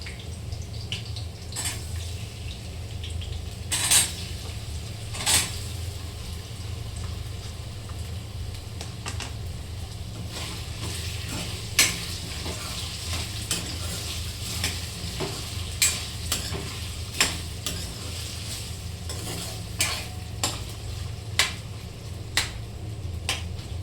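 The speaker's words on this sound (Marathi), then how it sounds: "हे बघा, मी आता लगेच बटाटे टाकून घेणार आहे" Potatoes sizzle and fry in a pan, a steady soft crackle under intermittent sharp clinks and scrapes of a spatula stirring, fairly close and moderately quiet throughout.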